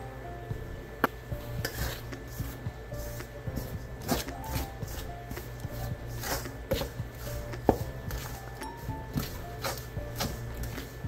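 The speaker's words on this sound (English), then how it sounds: "put 3/4 of a cup of milk in and give it a good stir" Milk gets stirred into biscuit dough in a bowl, a soft close scraping and knocking of a spoon against the bowl in uneven strokes, with quiet background hum.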